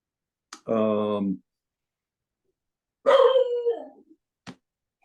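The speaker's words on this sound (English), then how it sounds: "I'll have to quiet my dog." A pet dog at home barks and howls in two close, loud bursts a couple of seconds apart, with quiet pauses around them and a short click at the end.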